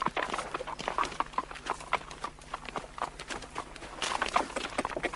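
A horse's hooves clip-clop at a walking pace, a steady run of sharp hoof strikes close by that carries through the full stretch without a break.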